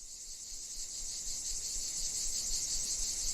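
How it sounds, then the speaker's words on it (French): Cicadas in the garrigue near Gignac, added as an ambient sound effect, keep up a steady high, dense buzzing drone, fairly faint and continuous with no voices. "on allume les cigales pour l'ambiance"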